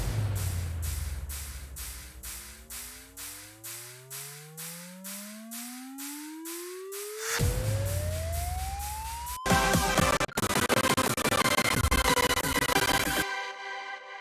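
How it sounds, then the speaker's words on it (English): A sub riser effect from an electronic dance track production, a tone sweeping steadily upward in pitch over pulsing synth chords, building into a loud, dense full mix near the end. "as well as a sub riser"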